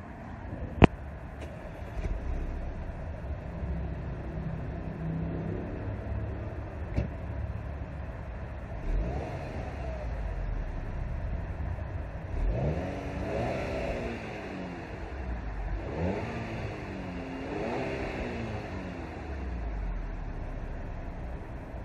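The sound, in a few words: car engine starting and revving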